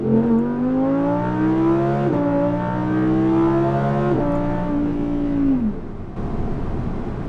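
A modified exhaust on an Audi R8 V10 Plus drones loudly and steadily as the throttle eases off. The pitch steps through a few gear changes, then falls away and settles into a lower rumble.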